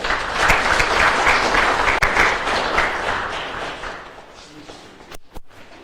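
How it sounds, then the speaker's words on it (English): An audience at a Zimbabwe contact center conference panel applauds loudly, the clapping thinning and fading over several seconds before a few sharp thumps near the end. "Can we all give him a round of applause?"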